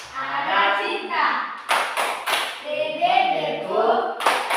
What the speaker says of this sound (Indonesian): Tepuk sukses.